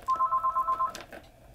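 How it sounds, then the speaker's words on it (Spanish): An office fax machine rings like a telephone with a quick run of evenly spaced electronic chirps, moderately loud and close, followed by a faint click and quiet room noise. "Es el teléfono este, no, eso es el fax, eso es el fax"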